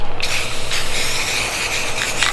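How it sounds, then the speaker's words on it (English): Aerosol spray paint on a dogbone engine mount for a 1.8T engine, coating it black: a loud, close, continuous hissing spray with brief pulses in strength. "We're spraying this thing down with some heat."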